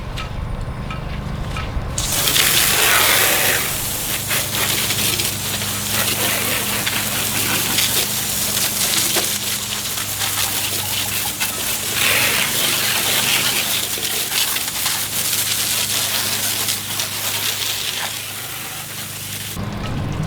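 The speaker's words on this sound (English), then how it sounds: "Now I'm just gonna rinse it and let it dry" Water spray rinsing degreaser off a diesel engine and boat transom, a continuous loud hissing splash with heavy spatter, steady throughout and close by.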